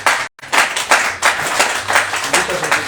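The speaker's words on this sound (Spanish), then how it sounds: "Dale un fuerte aplauso al Señor." Church congregation clapping loudly and steadily in a dense, continuous applause, with a brief silent gap near the start before the clapping resumes at full strength.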